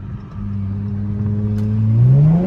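A Dodge Charger GT's V6 engine revs up through a loud straight-piped exhaust with 5-inch tips, the low rumble climbing in pitch toward the end of a short burst.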